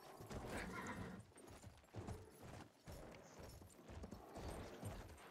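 Horse hooves in a multiplayer battle video game with lances, rapid clip-clopping that repeats in quick bursts, loud and close, with a neigh mixed in.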